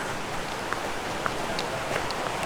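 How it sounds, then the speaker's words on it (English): Rain falls steadily on a New Zealand forest ridge, a dense even hiss with a few louder drips landing close by. "Rain's back."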